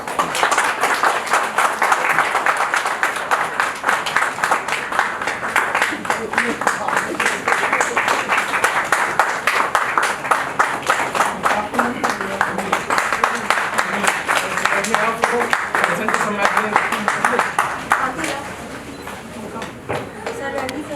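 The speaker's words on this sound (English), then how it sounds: "Please give a huge round of applause." Applause from an audience at a college Annual Day function honouring a speaker on astrology and astronomy, steady and dense for about eighteen seconds before thinning, with some talk mixed in.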